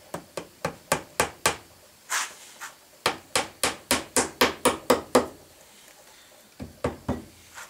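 A hammer drives a small nail into pallet wood with sharp, close strikes: a quick run of about six, a pause with a couple of softer taps, a steady run of about ten more, then a final few.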